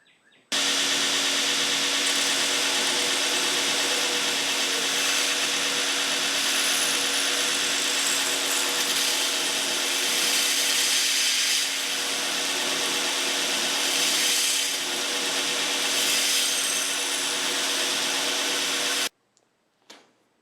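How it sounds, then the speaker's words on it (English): A belt sander grinds a bevel on a wavy-bladed steel dagger, a steady loud whirring hum with abrasive rasping that runs for about nineteen seconds before cutting off abruptly. "Using the belt sander, we did manage to get a bevel for the edge here."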